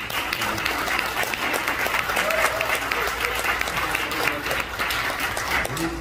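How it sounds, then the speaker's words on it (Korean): Loud, sustained applause and cheering from a church congregation welcoming the first speaker at a next-generation pastors' spirituality seminar, a steady dense wash of clapping and shouts throughout, with some voices mixed in. "큰 함성과 큰 박수로"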